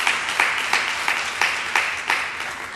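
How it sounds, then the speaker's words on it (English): Audience at a county council meeting applauds, producing a loud, steady wash of many hands clapping, with a few sharper claps and no voices. "Can we give her another round of applause?"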